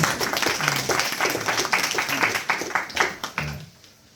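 A small group at a Bhagavad Gita study gathering claps in uneven bursts, a short ragged round of applause with some talking mixed underneath that fades away toward the end.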